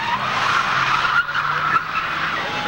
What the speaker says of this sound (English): The 1992 Supra, Toyota Supra for Richie Baptista. And it looks like he's going a little crazy there as he tries to heat up those rear tires